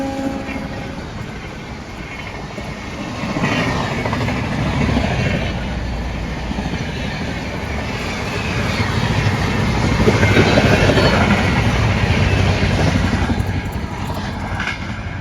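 A train approaches with a broad rumbling roar that grows slowly louder over the stretch, steady and fairly distant, with no voices clearly standing out.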